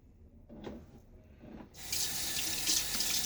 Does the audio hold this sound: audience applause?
no